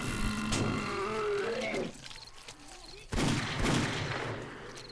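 Rapid bursts of gunfire aimed at a zombie cop in the survival game 7 Days to Die, loud and close, in two clusters separated by a quieter stretch of softer clatter.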